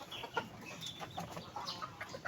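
Gamecocks raised for cockfighting clucking and calling in a farm setting, with several short, overlapping squawks at moderate distance over a steady background hiss.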